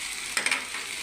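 Ginger garlic paste with turmeric and other spices hisses as it hits hot oil in a pan. A brief, steady sizzle swells with a couple of stirring scrapes near the middle, close and alone.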